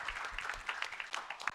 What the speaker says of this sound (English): Let's give our panel and distinguished members a round of applause.